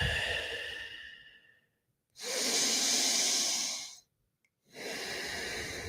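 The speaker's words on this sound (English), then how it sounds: "By now, we're starting to take very deep breaths." Deep breathing during a breathwork session: a long exhale that trails off, a pause, then a full strong inhale or exhale, another short silence and a further breath, close and clear with no talk.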